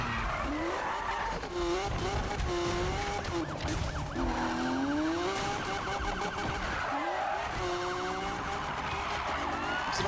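In a video game, tires squeal and skid in long, wavering screeches as a Lamborghini Aventador drifts, over a constant engine roar, with a siren-like wail rising at times.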